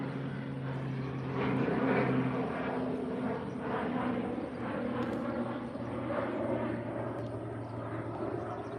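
An airplane drones steadily overhead in an area with no nearby airport, a continuous engine hum with a low tonal note that swells slightly and then holds, heard without talk.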